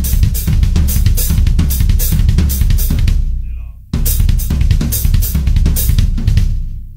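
A drum kit plays double strokes alternating between floor tom and hi-hat at a medium tempo, a dense, loud rhythmic pattern with a brief pause midway before resuming.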